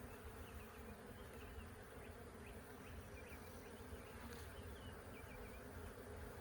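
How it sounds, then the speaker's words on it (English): Honeybees droning continuously inside a hive box in a bee yard, a dense, even buzz that stays close and unbroken throughout, with no voices. "Now there is a lot of bees at the bottom of the box still"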